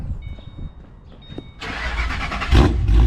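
A supercharged Ford Mustang with a weak, troubled battery cranks quietly for a moment, then its engine catches and roars to life loudly, settling into a rough, heavy idle.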